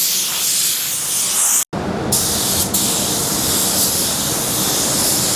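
Continuous hiss of a spray gun laying a light first coat of paint over a repaired dent on a Toyota Hilux, close and steady, with one brief cutoff where the spraying pauses before resuming.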